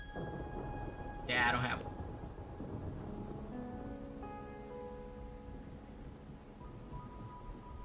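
Steady rain hisses faintly under a low, rolling thunder rumble in the fantasy video game Kingdoms of Amalur: Re-Reckoning. A person speaks over it and soft sustained tones drift in the background.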